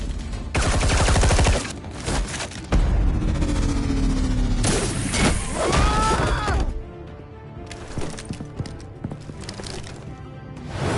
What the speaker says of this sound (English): Bomba de fumaça.